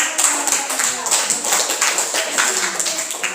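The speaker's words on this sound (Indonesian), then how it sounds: "Applause for the second group." A small group in a classroom claps steadily and closely after a group presentation, a loose patter of hand claps lasting a few seconds with faint voices.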